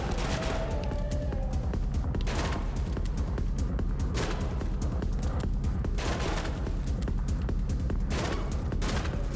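Rapid, loud video-game shotgun blasts boom and crack in quick succession, with overlapping reports and mechanical clatter sustained throughout.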